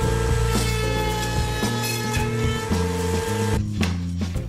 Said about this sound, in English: Then it's over to the router table to cut a rabbet into each one.